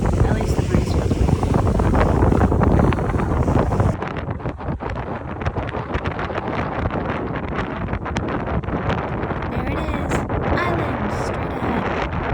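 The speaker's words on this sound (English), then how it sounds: "at least the breeze feels good" Wind buffets steadily across the open deck of a ferry crossing the Thai Gulf between islands, a loud broadband rush with water and engine noise beneath, constant for the whole stretch.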